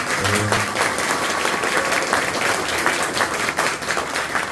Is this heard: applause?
yes